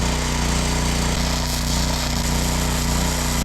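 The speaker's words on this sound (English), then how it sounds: "I'm not really sure how this tiny welder is going to do on this 1/4 inch thick steel" A small welder run off a generator lays a bead on quarter-inch thick steel, giving a loud, close, steady buzzing crackle that holds without a break and has no talk over it.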